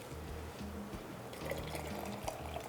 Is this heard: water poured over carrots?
yes